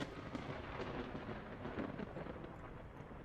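Thunder rolling after a lightning strike in the survival game Vintage Story, a steady broadband rumble that holds at moderate loudness for a few seconds with no voices over it.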